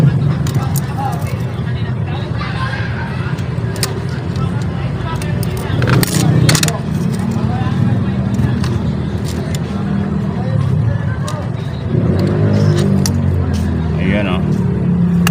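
A car engine runs in a busy outdoor setting, a low steady rumble with occasional scrapes and clatter, while several people talk over it.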